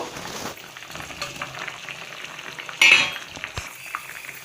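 Fish slides into a pot of frying Bengali curry, with a low, constant sizzle under light utensil clatter and a sudden louder hiss and splash partway through.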